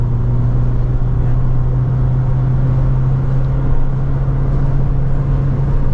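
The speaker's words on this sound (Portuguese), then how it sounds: "Vou colocar a quinta marcha, vou pisar até o fim" A GWM Haval H9 engine pulls at full throttle in fifth gear with a steady, loud low drone and continuous road rumble heard from inside the cabin, holding an even tone without gear changes.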